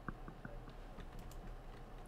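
Typing on a computer keyboard during a Garry's Mod Trouble in Terrorist Town game session, a quiet run of light, irregular key taps, faint and close, with no talk.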